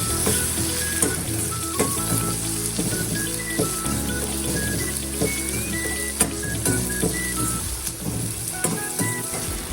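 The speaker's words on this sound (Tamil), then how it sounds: "ஒரு 10 பல்லு பூண்டுக்கிட்ட எடுத்து அதை போட்டு நல்லா வதக்கி விடணும்." About ten garlic cloves sauté in a pan for sundakai vathakulambu, giving a steady close sizzle with spoon stirring and clinks throughout, and no voice.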